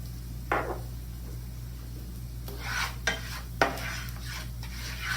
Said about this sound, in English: Our next step is to stir in the seasonings: cayenne pepper, allspice,